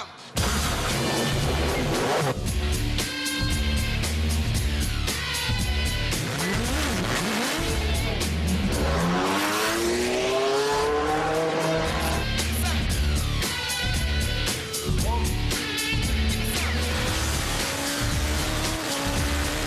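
An Acura LMP prototype race car laps a wet track, its engine revving hard through rising and falling gear changes, with repeated upshifts and sweeping pitch as it passes, loud and close throughout.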